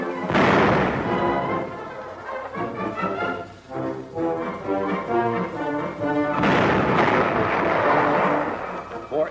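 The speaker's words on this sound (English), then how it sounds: "The gun commander demonstrates manual firing." An American M10 self-propelled anti-tank gun fires on manual control, giving loud heavy booms with a long rumbling tail, heard under narration.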